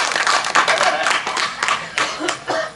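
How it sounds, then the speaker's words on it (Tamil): An audience at a stage comedy show claps in scattered, uneven bursts over a few seconds while a voice keeps talking over the applause. "கைதட்டு"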